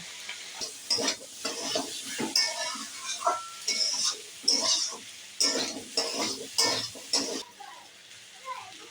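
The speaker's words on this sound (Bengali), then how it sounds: "আলুর সঙ্গে নুনটা ভালো করে মিশিয়ে নেব।" Potatoes mixed with salt in a frying pan, for a cauliflower and potato curry, give repeated close scraping stir strokes over a soft sizzle, arriving in uneven bursts with brief pauses between them.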